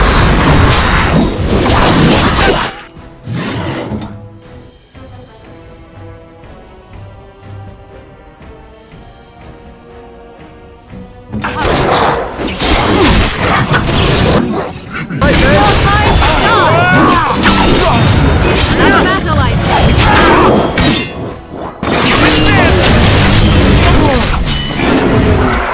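Bomb blasts and crashing impacts from the Dragon Age fantasy role-playing game, loud bursts in the opening seconds and again from about 11 seconds on, with a quieter musical lull between and voices talking over the action.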